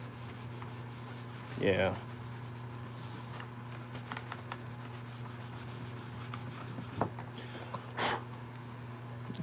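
A blue towel rubs across a waxed woodturned hollow form, giving a few short, soft scrubbing swishes over a steady machine hum, with one brief spoken word.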